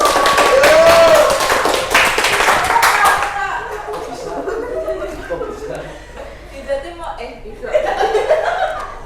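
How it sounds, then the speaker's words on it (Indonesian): A short burst of clapping from a small class group, fading quickly into light chuckles and murmured talk. "jawabannya boleh kasih tepuk tangan buat Mbaknya"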